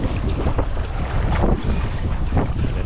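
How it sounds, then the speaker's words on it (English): Strong wind buffets the microphone during sea kayaking in rough water, a loud continuous roar with gusty swells and rushing water, no speech. "Right now there's a bit of stronger wind."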